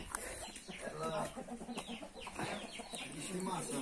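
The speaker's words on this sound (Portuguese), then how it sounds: "Aqui ela, é uma galinha especial." A hen, kept as a special pet, clucks in short repeated bursts at close range against a busy background of other noise and possible voices.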